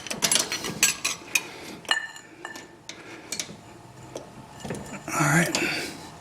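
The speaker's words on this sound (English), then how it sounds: "make sure you got your ratchet set to tighten it, not loosen it" A ratchet turns during an oil change on a 2014 RAM Cummins 6.7 diesel pickup, giving close, sharp clicks in short bursts mixed with metallic clatter of tools, with a voice in the background.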